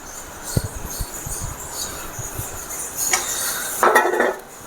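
Chicken goes into masala noodles in a pan and gets stirred, giving scattered metallic clinks and scrapes of a utensil against the pan, with a louder rattling burst near the end.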